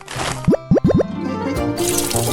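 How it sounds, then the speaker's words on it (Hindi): Water poured onto candy in a food-hack setup, a few quick rising bubbly plops in a row, then a softer steady trickle and fill sound, close and fairly loud. "कैंडी को यहाँ डालता हूँ और फिर इसमें पानी।"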